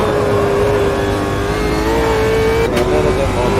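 Race car engine under throttle at Bathurst in Automobilista 2, a loud sustained drone with pitch wavering gently as the throttle is fed in, plus a brief whoosh near the end.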